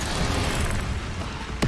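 An Incendio fire spell is cast in Hogwarts Legacy, giving a dense whooshing roar that builds steadily and ends in a short sharp burst.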